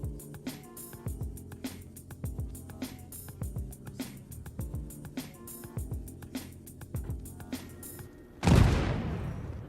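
Ship fire and explosions in the space game Star Citizen: a rapid, rhythmic run of booming cannon shots, then one big blast near the end that rumbles and fades, with no voices.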